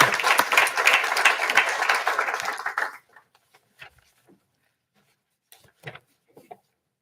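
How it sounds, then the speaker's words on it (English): An audience applauds teacher Megan Graves at a school board business meeting, a dense burst of clapping that carries for about three seconds and then stops, leaving only a few faint knocks and rustles. "a round of applause for Ms."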